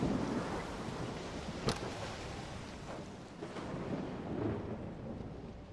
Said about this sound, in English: No, this is just one of the storms in the zone